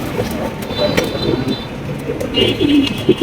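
Pouter pigeons coo in low, soft murmuring bursts close by, repeating several times over a steady background hum.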